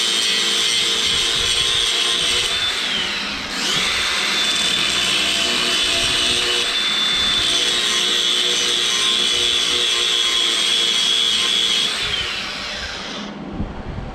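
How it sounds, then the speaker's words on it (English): A power grinder working on metal parts for a floor lamp, a loud steady high-pitched whine running nearly fourteen seconds with a brief dip near the start and tapering off at the end, no talk. "A little bit of grinding and we should be good to go."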